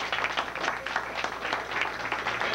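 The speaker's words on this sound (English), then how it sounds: "Give him a round of applause one more time." An audience claps steadily in a lecture hall after a talk on India through African eyes, dense applause holding at an even level throughout with no voices over it.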